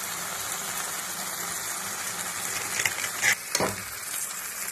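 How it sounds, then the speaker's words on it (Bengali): A spice paste with Kashmiri chilli powder sizzles and fries steadily in a pan, a constant hiss with a few brief scraping stirs near the end. "মশলাটা আমার কষানো হয়ে গেছে"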